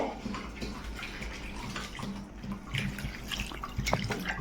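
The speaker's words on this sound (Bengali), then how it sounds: "একটা বড় বাটির মধ্যে আগে চিড়াগুলি নিয়ে নিলাম, তারপর একদম বেশি করে জল দিয়ে" Flattened rice (chira) is washed by hand with plenty of water in a big bowl, giving a steady close sloshing and splashing with small drips and no pause.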